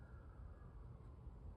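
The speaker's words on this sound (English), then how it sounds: "ambulance siren going off." A faint, distant ambulance siren holds a steady wailing tone far in the background under low rumbling room noise, with no speech.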